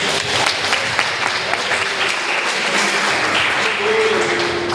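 A church congregation claps for Jesus during a service, a dense, continuous round of applause filling the room with a steady roar and no clear gaps.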